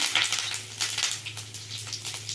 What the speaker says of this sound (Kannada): ಜೀರಿಗೆ ಹಾಕಿದ್ದೀನಿ ಸ್ವಲ್ಪ ಕರ್ಬೇವು ಹಾಕ್ತಾ ಇದ್ದೀನಿ